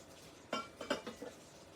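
A glass candy dish, lid removed, is flipped upside down and set onto a plate, giving a few light clinks and knocks of glass on a dish in quick succession, close and soft, in an otherwise quiet room.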